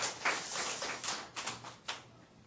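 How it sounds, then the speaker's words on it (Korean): Applause from a church congregation, a scattered burst of claps with louder peaks, fairly close and heard alone without talk. "그러니까 여러분도 박수."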